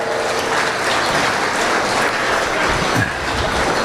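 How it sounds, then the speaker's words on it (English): A crowd at a youth beef showmanship event claps steadily, a dense, even wash of applause that fills the whole moment without pause and without voices on top. "let's give these young folks a round of applause"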